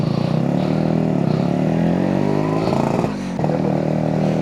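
A modified Yamaha RXZ 5-speed motorcycle is ridden: a loud, close two-stroke engine drone with rising and shifting pitch, a brief dip as if the throttle is backed off, then the engine picks up again.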